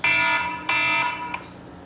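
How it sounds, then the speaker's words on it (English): Loud electronic alarm tone sounding in steady, sustained bursts, a set hourly reminder beeping alone with no voices. "That's my hour before showtime start alarm"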